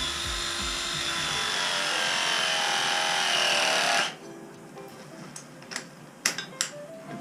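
An electric pipe press tool whirs steadily while crimping a copper pipe fitting during a leak repair between floors, then stops automatically, leaving a few faint clicks and taps.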